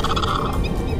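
A loud, harsh bird call, a rapid gobbling burst, close by and alone for about a second.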